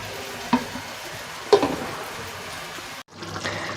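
Fish fries in a pan with a continuous hiss of oil, broken by two sharp clatters of a spatula or lid before the sizzle briefly cuts out and resumes.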